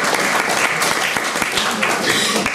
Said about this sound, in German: Wir dürfen ruhig klatschen